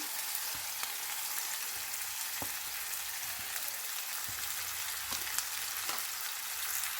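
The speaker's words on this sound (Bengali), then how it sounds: "এবার এটাকে একটু ভালোভাবে ফ্রাই করব" Pointed gourd paste with prawn paste, green chilli, salt, turmeric and ginger-garlic fries in a pan, giving a steady soft sizzle with a few faint clinks of stirring.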